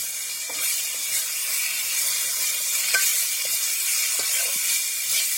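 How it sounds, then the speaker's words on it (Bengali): Raw potatoes fry with spices in a pan, a loud continuous sizzle and hiss with occasional scraping stirs and small pops, close up and without voices. "মশলাটা দিয়ে ভালো মতো ভেজে নেব।"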